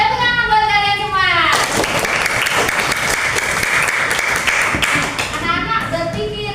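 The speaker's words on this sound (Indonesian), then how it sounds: "Tepuk tangan buat kalian semua." Children clap together in a classroom, a dense burst of applause in the middle of the clip, with a teacher's voice talking before and after.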